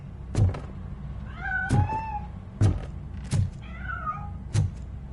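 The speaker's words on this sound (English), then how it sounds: "That cat must be hiding inside." A cat meowing in RoboCop: Rogue City, two drawn-out meows near at hand, set among a run of dull knocks and thunks, with no talking.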